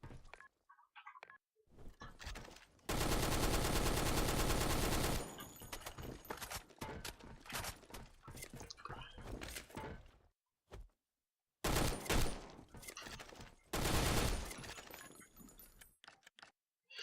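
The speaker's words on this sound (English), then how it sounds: "it shoots very fast and it has little recoil" NX1 rifle in the Blackshot Revolution video game firing rapidly, with long loud bursts of automatic gunfire separated by quieter clicks, handling noises and short silences.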